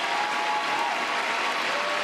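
A home crowd in France applauds a French ice-dance couple at a Grand Prix figure skating event, a dense, steady wash of clapping filling the arena throughout.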